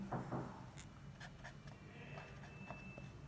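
Marker or chalk scratches across a board during a Class 12 matrices lesson, with short strokes and taps over a steady room hum.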